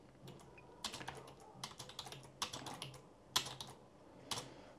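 Quiet, irregular clicking of keys on a computer keyboard, in short bursts with brief pauses, close and soft with no talking.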